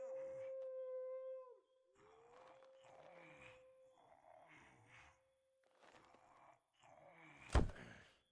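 Dogs howling in The Witcher 2, a long sustained wavering howl at the start followed by lower, quieter howls, with a voice speaking between them and a sharp thump near the end.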